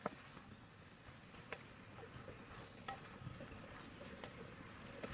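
Brinjal pieces being stirred in a pan of curry-spiced stir fry, a faint continuous sizzle with scattered light scraping clicks, close and quiet with no talk.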